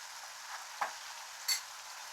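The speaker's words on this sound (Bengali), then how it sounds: "এবার মশলাটা কষিয়ে নেবো" A spice mix with asafoetida, sugar and salt sautés in a pan for a paneer and potato curry, a soft, steady sizzling hiss broken by a couple of brief stirring scrapes, faint and without voices.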